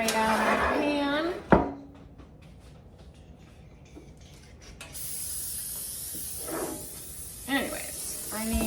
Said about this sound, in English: We're gonna spray down our pan.